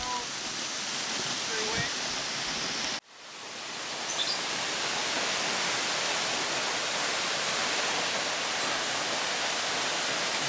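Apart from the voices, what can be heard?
Vanishing Falls waterfall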